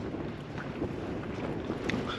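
Strong wind gusts roar and buffet outside a tent on a hillside, a dense, continuous rushing noise close to the microphone with no voices.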